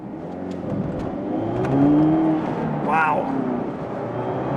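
A 2019 Chevrolet Camaro engine in Sport Plus mode revs with a rising pitch and blips through a downshift, heard from inside the cabin at moderate level while a man exclaims over it.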